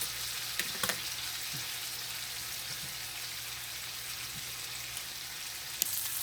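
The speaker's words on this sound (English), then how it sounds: "The steak cooking slow now. It's cooking slow." T-bone steaks cooking slowly in a pan give a soft, steady, even sizzle throughout with a few faint pops and ticks.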